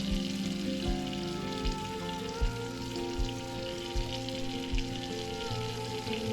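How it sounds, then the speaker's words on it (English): Butter and coarsely chopped onion sauteing in a frying pan, a steady close sizzle with faint crackles and a low rhythmic thumping underneath. "We're melting a stick of butter in a frying pan, and now we're adding one coarsely chopped onion."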